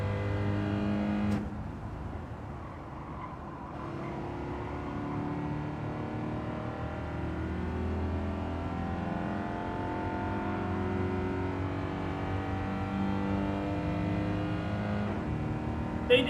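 Race car engines in Gran Turismo 7 during a National B race, a steady loud drone of revving motors that holds throughout, with no talk.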